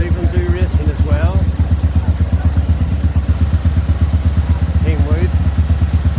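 Classic motorcycles idling at Bishopscourt racing circuit, a close, loud, rhythmic engine putter with steady pulsing beats, while someone talks briefly over it.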